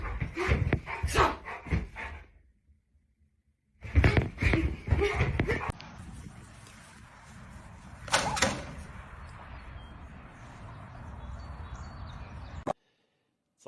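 A dog barking and whimpering in bursts at home, with loud yips early on, a pause, another barking flurry, then quieter whines and a sharp yelp, separated by near-silent gaps.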